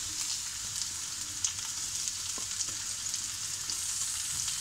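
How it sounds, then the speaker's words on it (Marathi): Chopped onion fries in hot oil for misal, a bright, even sizzle that hisses steadily throughout, with faint occasional stirring taps. "आपण जरा कांदा पहिला परतून घेऊया."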